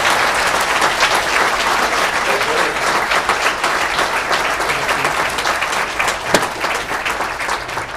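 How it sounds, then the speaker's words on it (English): Full, continuous round of applause from a breakfast gathering, dense clapping holding steady and loud from start to finish. "Can we give Steve one more round of applause here?"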